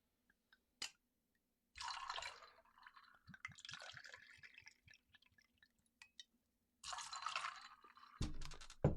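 Sauvignon Blanc white wine is poured into a measure in a few separate splashing, trickling bursts with small drips between them. The sound is close and quiet, with no talking.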